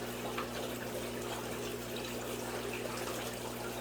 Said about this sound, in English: these are just ceramic beads, and that's where the beneficial bacteria is cultivating in. Give that a good rinse.